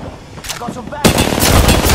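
Video game gunfire in Apex Legends: a sparse volley of shots, then a loud, sustained burst of rapid automatic fire that fills the second half, close and dense with no audible talk over it.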